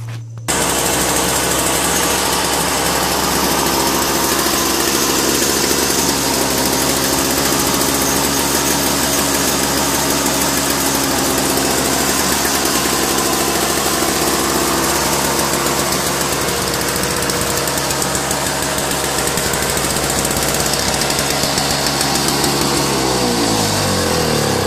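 A Toro 7HP Snow Commander 24-inch snow blower engine runs steadily after a pull start, loud and close, a constant buzzing idle with a rattling knock that cuts off near the end.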